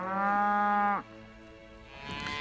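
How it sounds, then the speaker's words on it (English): Longhorn cattle on a working ranch southwest of Dodge City: one close, loud, tonal moo lasting about a second, followed by quieter ranch background sound. "These are your classic longhorn cattle."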